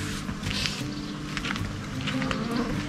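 Flies swarm close by outdoors on Australia's south coast, a continuous buzzing hum that stays steady and fairly loud with small rustling ticks mixed in.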